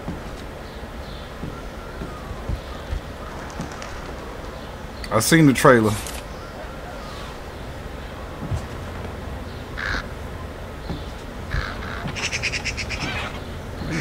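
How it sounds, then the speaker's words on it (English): Crows cawing in the stealth game Thief: a brief, loud burst of harsh caws in the middle, then fainter scattered bird calls, mixed with a person talking. "I know it's birds over here somewhere."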